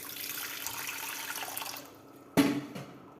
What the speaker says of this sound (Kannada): ಇದಕ್ಕೆ ನೀರು ಹಾಕೊಳ್ಳೋಣ. ಮುಳುಗುವಷ್ಟು